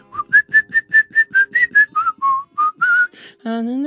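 Someone whistles a short tune nearby: a run of quick, clear staccato notes followed by a few longer ones, ending in a brief vocal sound.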